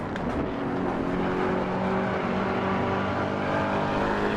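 Camaro engine in a racing video game, revving steadily with a continuous loud drone and shifting harmonic tones, no talk over it.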